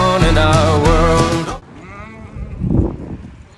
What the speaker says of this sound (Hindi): यहाँ की भेड़ भी निराली है.